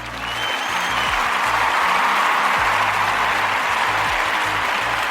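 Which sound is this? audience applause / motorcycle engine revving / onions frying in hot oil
audience applause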